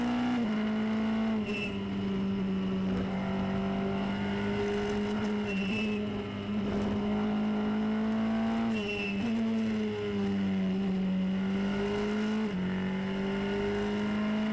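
Pierre Gasly's Formula Renault single-seater, on Pirelli tyres with 13-inch wheels and heavy aero, screams around a track in a continuous onboard engine drone, with repeated upshifts and downshifts rising and falling in pitch throughout.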